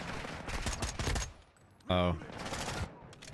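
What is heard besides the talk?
gunfire in video game Modern Warfare 2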